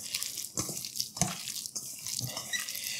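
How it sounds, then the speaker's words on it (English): Water drizzled from a tap onto raw beef with baking soda in a kitchen, a short splashing pour with a few brief bursts and faint trickling in between, close and fairly quiet, no voices. "I'm just going to put a drizzle of water to make it easy for me to combine this"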